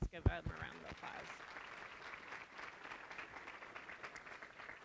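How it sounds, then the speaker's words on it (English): Applause from the audience at a Public Education & Business Coalition gathering of educators and district leaders: a steady wash of clapping after a brief burst at the start, with voices mixed in throughout. "Please give them a round of applause."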